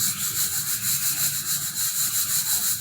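Rhythmic scraping and stirring in a pan, with a soft hiss of something dry roasting, repeating in a steady back-and-forth pattern.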